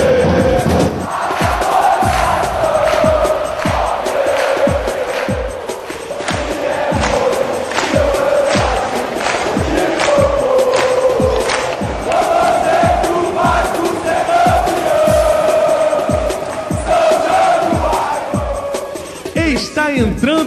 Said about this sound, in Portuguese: É hora de ouvir a torcida.